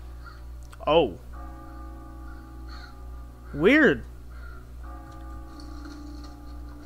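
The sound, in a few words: crows cawing in video game Far Cry 5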